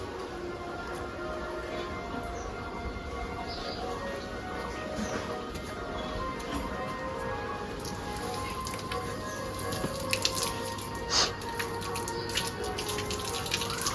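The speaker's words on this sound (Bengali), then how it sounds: "যেহেতু জলটা গরম বেড়াচ্ছে এখন তাই একটু জলটা বাইরে ফেলে দিচ্ছি" Water running from an outdoor tap through a fitted pipe, a steady, fairly soft splashing flow that continues throughout with a few small clinks near the end.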